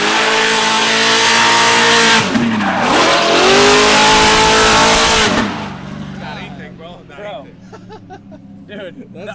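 A C6 Corvette drift car screams on track, its engine revving hard and dipping with tire squeal, then fading away as the car pulls off; excited people talk afterward.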